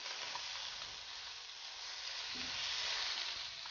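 Fish sizzles steadily in a frying pan just after being turned over, a dense, even crackle of hot oil with no talk, holding at a moderate level throughout.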